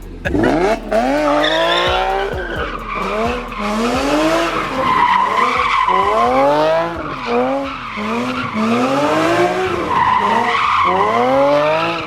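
A BMW E36 M3's tires squeal and skid continuously while the car does donuts, loud and close, the screech rising and falling in repeated sweeps over engine noise.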